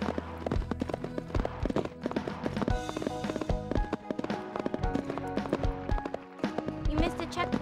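A horse gallops in a video game, its hooves thudding in a fast, steady rhythm, loud and close, mixed with busy game sounds and talk.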